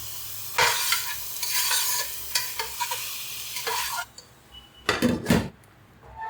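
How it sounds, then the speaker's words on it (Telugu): Sliced onions with salt fry in a pan for a brinjal curry, a steady sizzle broken by a spoon stirring and scraping the pan, with louder stirring clatter near the end. "ఉల్లిపాయలు కొంచెం వేగాయి,"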